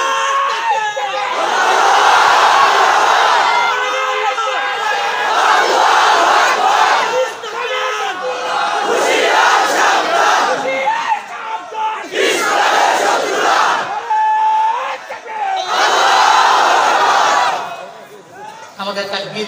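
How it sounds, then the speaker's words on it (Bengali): A large crowd at an Islamic religious gathering in Comilla, loudly chanting the Takbir slogan in repeated roaring waves, with a leader's voice calling out between the responses. "লিল্লাহে তাকবীর স্লোগানটা একটু জোরে দেন তো"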